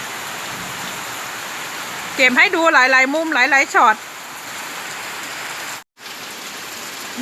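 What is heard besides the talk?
rain falling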